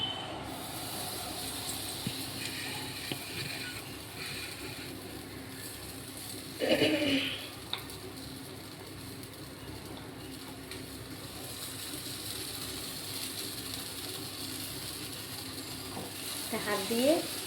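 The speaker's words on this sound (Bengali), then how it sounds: "এবার আমি এই ডালটা কড়াইয়ের মধ্যে ঢেলে দিচ্ছি" Dal poured into a little hot oil in a karahi gives a soft steady sizzle, with a brief louder burst of hissing midway, quiet and close under light background noise.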